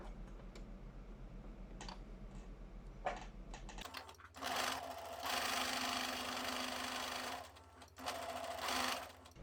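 A sewing machine stitching a zipper onto a cushion cover: a quiet steady whir at first, then a louder fast rhythmic needle chatter running continuously with brief pauses, close and alone.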